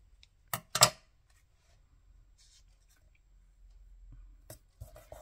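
Scissors trim small paper bits at a craft desk: two or three quick, sharp snips up front, a quiet pause, then a few softer cuts and rustles near the end, close by with no talk.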